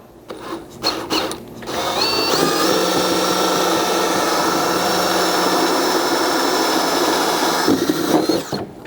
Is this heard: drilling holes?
yes